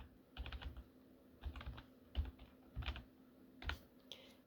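Keystrokes on a computer keyboard while entering a web address into a spreadsheet, soft clusters of taps in short bursts separated by brief pauses, close and fairly quiet with no talking.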